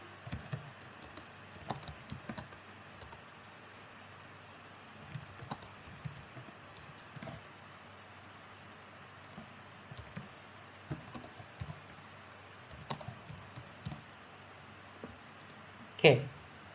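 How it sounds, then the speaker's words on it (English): Keys on a computer keyboard clatter in short irregular bursts while a title is typed into a PowerPoint slide, quiet and close, with brief pauses between runs of clicks and a sharper sound near the end. "So let's type in something to the title."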